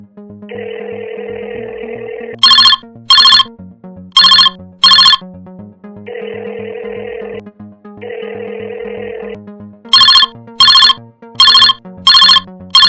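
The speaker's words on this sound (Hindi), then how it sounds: "ऑफिस में फोन कोई उठा क्यों नहीं रहा है?" An electronic phone ringtone plays loudly and alone, alternating a sustained buzzing tone with bursts of rapid high chirping rings in a repeating pattern.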